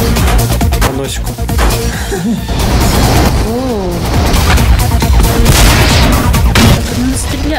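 Loud bursts of cartoon tank cannon fire and explosions from an animated tank battle, heavy booms crowding together with a voice talking over the din.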